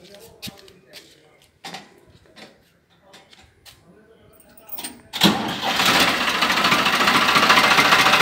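A Farmtrac 60 HP tractor's diesel engine cranks with the self-starter and catches, settling into a loud, steady running roar after several seconds of quieter sounds and nearby voices beforehand.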